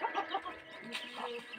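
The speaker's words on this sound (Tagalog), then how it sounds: "nagpapakain po kami ng native chicken" Native chickens clucking at feeding time, with a cluster of soft, busy clucks and chirps close by, continuing irregularly and fairly quietly.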